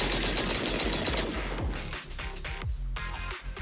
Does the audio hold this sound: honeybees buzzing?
no